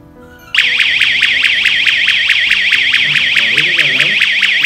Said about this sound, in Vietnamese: Còi hú rất là lớn.